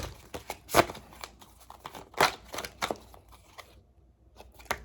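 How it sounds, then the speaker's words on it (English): Tarot cards being shuffled by hand close up, with papery riffles and a few sharper slapping bursts scattered over a few seconds of quiet handling. "The cards won't even shuffle for you all."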